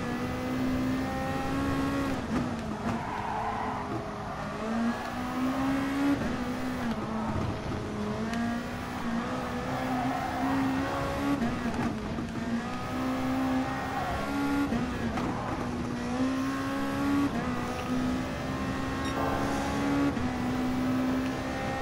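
A race car engine drones continuously in the GT Sport racing game, a steady loud whine that rises and dips with shifts and revving across the lap, alone without talk.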